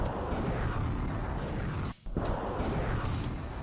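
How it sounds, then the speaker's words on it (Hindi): Russian artillery firing in eastern Ukraine, heard as a dense, sustained roar of blasts that briefly drops out before resuming with several loud, sharp reports. "तोपखाने दनादन आग उगल रहे"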